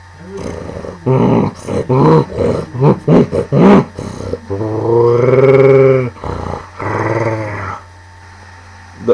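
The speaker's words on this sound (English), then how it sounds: "mixed gorilla with snorting rhino and growl, like some sort of growling wolf" A movie creature's voice made from gorilla, snorting rhino and growling wolf sounds gives a run of loud, choppy grunts, then long rumbling roars and growls, with short pauses between bursts.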